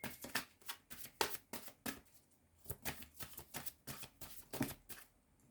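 Playing cards shuffled and drawn for a tarot-style reading, a run of quick riffling and snapping bursts in a steady, close rhythm with brief pauses between them.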